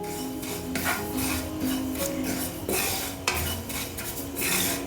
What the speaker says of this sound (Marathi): इथे मी घेतलेत अर्धा कप पांढरे तीळ. एकदम मंद गॅसवर आपल्याला हे भाजून घ्यायचे.